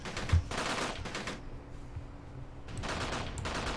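Machine gun fire in the combat game Graviteam Tactics, Soviet invasion of Afghanistan, heard as two long sustained bursts of rapid fire with a quieter gap between them.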